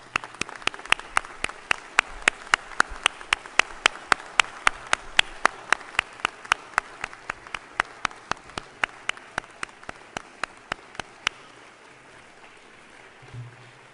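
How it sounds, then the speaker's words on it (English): At a university Encaenia graduation ceremony, applause comes through as sparse, steady individual claps in an even rhythm, moderately loud in a reverberant hall, thinning out and stopping near the end. "give them a round of applause"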